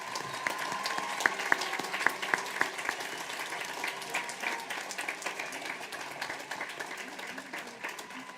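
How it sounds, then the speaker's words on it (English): A high school graduation crowd applauds steadily for the top 25 honorees, a broad continuous wash of many hands clapping with a few sharper claps standing out near the start. "Let's give our top 25 a round of applause."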